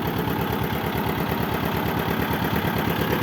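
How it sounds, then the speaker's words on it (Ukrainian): A small farm-machine engine with a starter-generator and decompressor runs steadily at idle, a dense, even low rumble with rapid regular pulsing that stays loud and unchanged throughout. "Двигунчик працює дуже добре."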